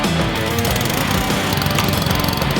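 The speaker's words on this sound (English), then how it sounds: "Today we're going to be using the Ryobi GC160 Honda Power Washer" A Ryobi GC160 Honda gas power washer rated at 2800 PSI runs loudly and close by, a steady engine drone with a rapid pulsing rattle throughout.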